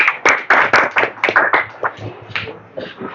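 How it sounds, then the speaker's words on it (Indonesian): Classroom applause for a student group during a teaching performance test in Semarang, Indonesia: several sharp, uneven hand claps ring out up close, then settle into a looser, softer patter of hands. "Tepuk tangan untuk kelompok 2."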